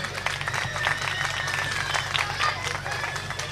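Applause for Adil Majeed at a Christmas festival with orphan children in Youhanabad, a steady wash of clapping from a seated crowd, moderately loud and continuous with some voices mixed in.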